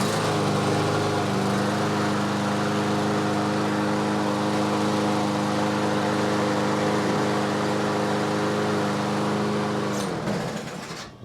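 A lawn mower engine with a freshly cleaned carburetor and its brake clamped down runs at a steady, loud idle for about ten seconds, then sputters and cuts off near the end.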